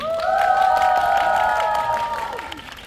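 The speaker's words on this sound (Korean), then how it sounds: "우리 두 분께 다시 한번 큰 박수 부탁드리고요" A cinema audience greets two Slam Dunk voice actors at a stage event with a burst of clapping and excited high-pitched cheering, the crowd noise swelling and then gradually fading.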